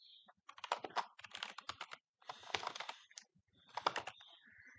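Someone types on a computer keyboard in quick, quiet bursts of key clicks separated by brief pauses. The clicks are close and soft.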